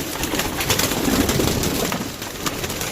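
Pigeons coo loudly and up close in a continuous, throaty burble of overlapping calls. Soft background noise sits beneath them.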